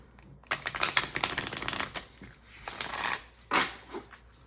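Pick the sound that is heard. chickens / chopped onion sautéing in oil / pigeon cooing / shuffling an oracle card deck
shuffling an oracle card deck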